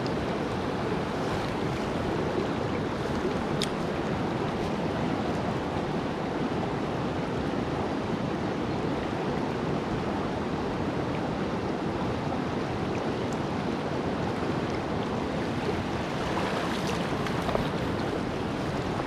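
Water rushes in a remote mountain creek with a constant, dense, full roar that stays steady and close throughout, with no voices.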